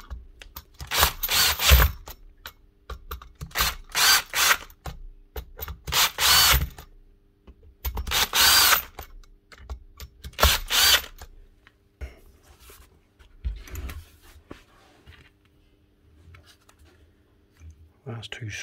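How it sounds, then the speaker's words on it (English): A power drill whirs in several short, loud bursts as screws are driven into a Bosch GBH 5-38 D rotary hammer, with pauses between and a voice speaking in the gaps. "Finish them off quickly with the drill."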